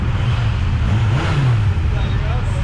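Kawasaki Z650 RS motorcycle pulling out, its engine rumbling and rising steadily nearby with a voice talking over it.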